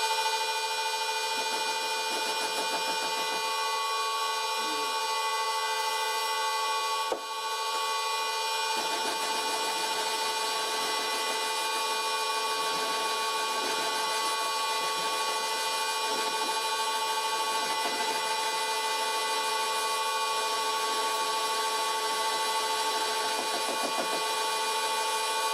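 An old Karger lathe turning at about 400 RPM takes its first cuts, giving off a steady, loud mechanical hum with whining tones and faint cutting scrape throughout, with one brief knock partway through.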